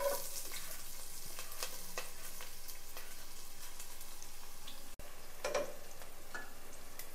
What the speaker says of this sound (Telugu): మనం ముందుగా కట్ చేసి పెట్టుకున్న ఉల్లిపాయ, పచ్చిమిర్చి,